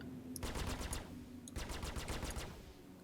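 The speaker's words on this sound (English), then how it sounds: "It's quite a nice effect, firing effect." Star Citizen ship weapons fire in two rapid automatic bursts of evenly spaced shots, loud and close, with a short pause between the bursts and no talk over them.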